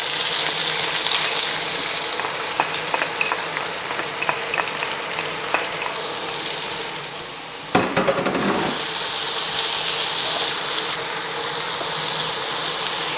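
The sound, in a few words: frying onion with curry leaves in a pan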